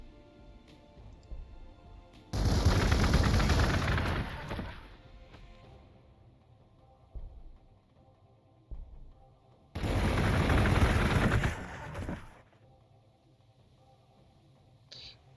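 Bursts of gunfire in the Warhammer 40,000: Gladius strategy game, two loud sustained volleys of shooting at enemy units, each lasting a couple of seconds, separated by quieter ambient battlefield background.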